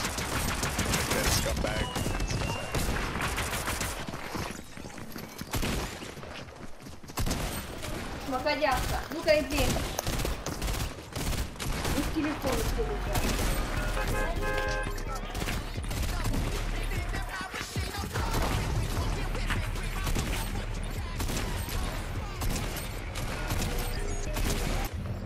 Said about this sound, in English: Ooh, combat pistols.